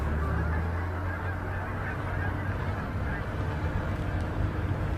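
A huge flock of wild geese calls while flying during a bird hunt in Russia, a dense, continuous wall of honking that fills the whole stretch, loud and unbroken, with someone speaking briefly over it.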